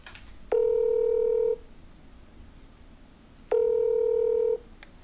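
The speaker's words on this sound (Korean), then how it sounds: "그러면 전화를 한번 걸어볼까요?" Two steady telephone tones sound alone against a quiet background, each lasting about a second with a pause between, as a number is dialed on a phone for a call-in segment.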